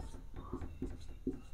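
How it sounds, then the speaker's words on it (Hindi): A teacher's chalk or marker scratches and taps in short strokes on a board in a classroom, quiet and close, a few distinct marks in quick succession. "मैं लिखता जाता हूं"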